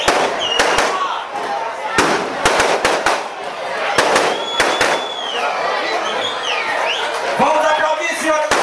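Fireworks bursting at an outdoor political party-joining event for the PSDB, a string of loud sharp cracks and bangs at irregular intervals with whistling rockets rising between them, over crowd chatter.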